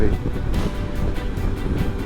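Strong wind and sea at Loop Head on the Irish coast: gusty wind buffets the microphone in steady pulses over a constant broad roar of surf, loud and close.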